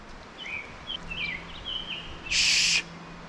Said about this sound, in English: I don't know why that bird is just right over top of my head screaming.